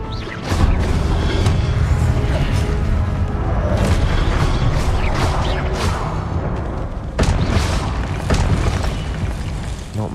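Incendio fire spell in Hogwarts Legacy amid combat: a loud rolling series of booming, crackling blasts and fiery bursts over a continuous rumble, several sharp impacts spread across the stretch, no talking.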